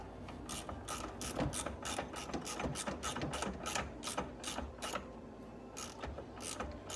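A hand ratchet works loose the positive battery terminal bolt on a 2010 Chrysler Sebring, giving quick runs of clicking pawl strokes with short pauses, close up but fairly quiet, with no talking.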